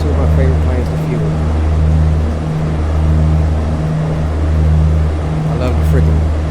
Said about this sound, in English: I love the freaking engine startup sound.